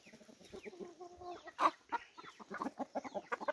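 Several free-range chickens cluck and murmur softly nearby while eating bread, with short irregular calls and a louder squawk partway through, no talking.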